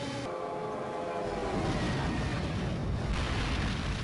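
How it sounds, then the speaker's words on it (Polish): A train thunders past in the Shin Megami Tensei: Devil Survivor 2 video game, a loud, dense rumble that swells after a moment and roars on continuously with no talking. "O cholera! Pociąg!"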